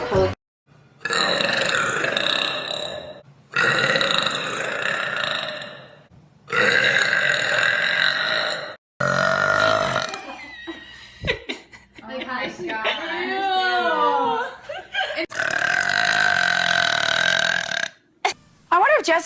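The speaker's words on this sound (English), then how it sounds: "how many times the average person burps each day" A woman burps repeatedly, several long loud belches in a row separated by short pauses, with some chuckling and vocal noises in between.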